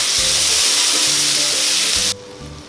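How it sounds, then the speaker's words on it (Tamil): Onions and tomatoes sizzle steadily in hot oil in a pan while a mushroom biryani base is sautéed, a loud close frying hiss that cuts off abruptly near the end, with a faint low hum left underneath. "இதோட 2 தக்காளியும் நீட்டாக கட் பண்ணி ஆட் பண்ணிக்கோங்க. தக்காளி நல்லா வதங்கட்டும்."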